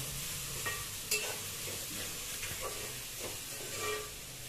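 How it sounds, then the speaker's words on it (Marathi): Ginger and garlic sautéing in a pan on slow-medium heat for chicken curry: a soft, quiet sizzle broken by occasional spatula scrapes and taps against the pan. "अद्रक लसूणचा जो कच्चा वास आहे तो जाईपर्यंत आपल्याला स्लो मीडियम गॅसवर चांगल्या प्रकारे परतून घ्यायचं आहे."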